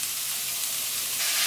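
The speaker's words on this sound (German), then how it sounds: "In eine Pfanne kommt das Ground Beef" Ground beef sizzling in a hot pan: a continuous bright, hissing crackle of frying fat that holds steady and swells slightly toward the end, close up with no talk.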